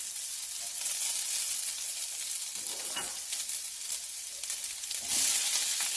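Garlic sizzles in a hot pan for Trini-style curry chicken, a loud, steady frying crackle with a few brief stirring scrapes and no talking.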